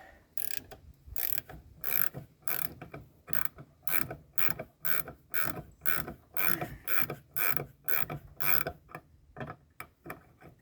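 A ratchet wrench loosening the brake master cylinder bolts on a 2001 Ford F250 clicks in a steady, fast rhythm of sharp ratcheting strokes, close and fairly loud, pausing briefly near the end.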